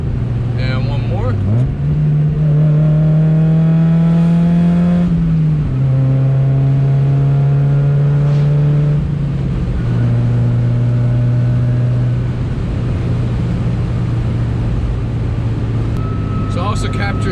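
A car fitted with a Good-Win Racing RoadsterSport 4 exhaust revs loudly through downshifts, the engine note stepping up sharply with each blip and then holding a steady drone, heard from inside the cabin.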